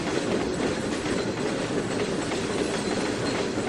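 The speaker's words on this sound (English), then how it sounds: "Might be just a local freight coming the other direction" In the railway simulator game Trainz 2019, a freight train rumbles past close by with a steady, dense roar of wheels on rails and a faint clickety-clack, continuous and loud throughout.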